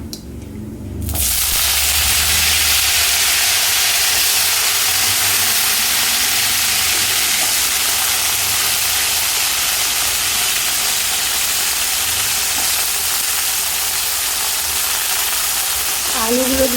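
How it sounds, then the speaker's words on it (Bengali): Cut potatoes frying in a pan while cooking a simple home-style banana stem (thor) recipe, a steady loud broadband sizzle that begins abruptly after a second and holds unbroken to the end. "আলুগুলো দিয়ে আমি কিছুক্ষণ ভেজে নেব।"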